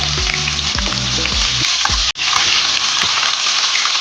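Sliced onion frying in hot oil with cinnamon and cloves for a spiny gourd curry, a loud, dense, continuous sizzle with a few early clinks of a spoon against the pan and one brief dropout midway.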